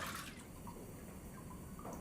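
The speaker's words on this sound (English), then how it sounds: "After 2 minutes of careful sloshing, a sheet of paper is finally formed" Soft, faint sloshing of water in a mould as a sheet of traditional Japanese washi paper is formed by hand, a gentle continuous liquid wash with small splashes and no talking.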